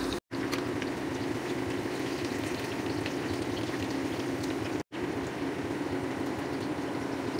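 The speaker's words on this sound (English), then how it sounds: "Deep fry to light brown." Thick eggplant slices deep-fry in hot oil with a steady, dense sizzle and bubbling. Two very brief dropouts interrupt it, and no one speaks.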